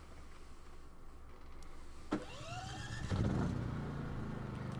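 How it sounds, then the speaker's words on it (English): A Wen DF452iX dual fuel inverter generator makes its first start attempts, a quiet low engine hum before a sharp mechanical clank, a rising whine as the motor catches, then a louder rumbling idle building up to the end. "The engine will automatically choke itself and continue to try to start until it begins to run."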